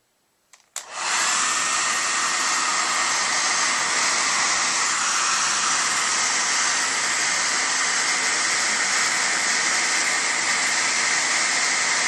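A hot air gun blows steadily onto an Xbox 360 circuit board during an E74 error repair. After a brief click it starts, then holds a loud, continuous rushing whoosh to the end, with no talking.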